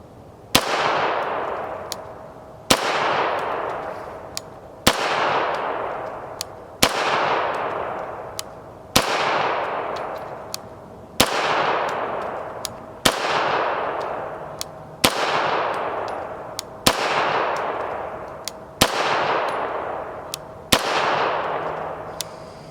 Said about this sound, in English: At the range, we put 500 rounds through the pistol with no malfunctions